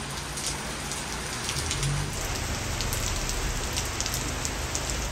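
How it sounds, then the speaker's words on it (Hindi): Heavy morning rain pours down steadily, a dense, close hiss of drops drumming on surfaces with no break, loud and unbroken from start to finish. "भी बहुत तेज़ बारिश स्टार्ट हुई है यहाँ पे"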